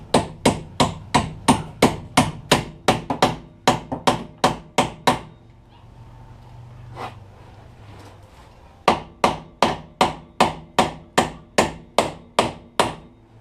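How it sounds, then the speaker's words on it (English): A hammer taps a strut bolt back through the mount on a Pontiac Grand Am's rear strut, struck in two quick runs of sharp, evenly spaced metallic blows, separated by a pause of quieter handling noise. "start tapping the bolts back through"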